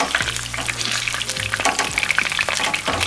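Magnolia pork lumpia sizzle and crackle steadily in hot oil in a pan, with occasional scraping and clunks as they are flipped, loud and close throughout.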